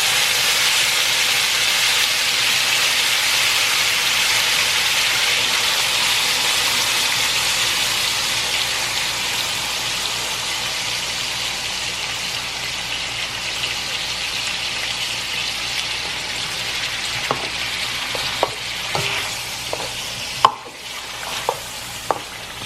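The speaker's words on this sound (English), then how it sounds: "So now I'm going to add my sauce, some of my sauce" Tomato sauce for spaghetti and meatballs hits a hot pan with a loud, steady sizzle that eases slightly, followed by a few close clinks and a clatter of a utensil near the end.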